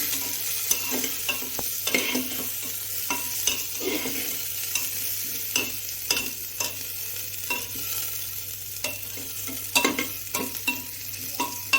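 Onions frying in a pan for mutton kosha, a steady close sizzle with frequent scraping stirs and small clicks throughout.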